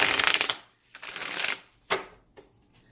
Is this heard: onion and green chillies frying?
no